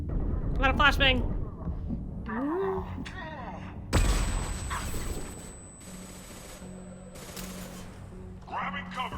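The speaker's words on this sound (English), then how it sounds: "I got a flashbang!" A flashbang grenade bursts with a loud boom and a lingering high ringing tone in Mass Effect 2 combat, with gunfire and game chatter around it and a voice speaking before and after.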